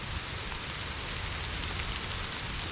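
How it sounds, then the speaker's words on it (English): Steady, heavy rain pours down over a survival shelter at a campsite in a dense continuous wash, close and loud with no pauses and no voices. "It's been raining for a good hour now, solidly, heavily in most cases."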